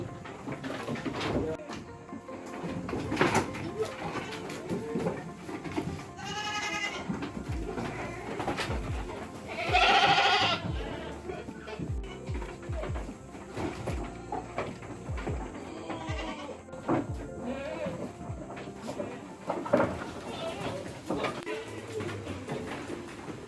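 Goats bleat repeatedly at a livestock farm in Takengon, with one loud, drawn-out cry in the middle and scattered shorter calls, all over steady people talking nearby and faint bird sounds.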